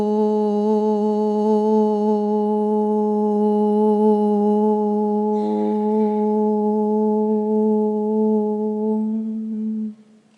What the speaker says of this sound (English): open the mouth and let it make the sound Om.